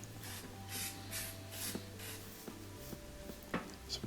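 Bursts of electrical contact cleaner sprayed onto a gas stove burner head during cleaning, several short hissing puffs in quick succession, close and fairly quiet over a low steady hum.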